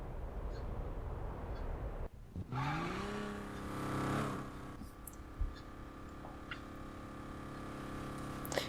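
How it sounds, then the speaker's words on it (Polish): A Porsche 911 engine in the game Need for Speed (2015, PS4) revs up and holds a steady, rising whine with a few brief clicks, heard alone without talk. "co sądzicie o tym dźwięku silnika z Porszawki 911?"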